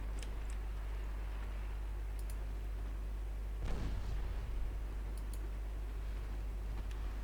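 Warship main guns fire in the naval game Ultimate Admiral Dreadnoughts, a single muffled distant boom midway through a quiet low hum, with a few faint ticks scattered around it.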